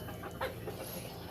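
Backyard chickens cluck softly and close by, several short calls over steady outdoor background noise.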